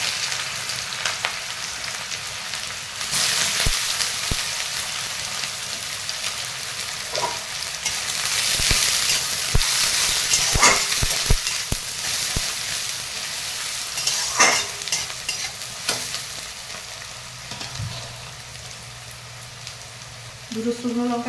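Chopped onion frying in hot oil with a bay leaf, whole garam masala and a little sugar for red chicken, a steady broadband sizzle with scattered stirring clacks and scrapes throughout, moderately loud and close.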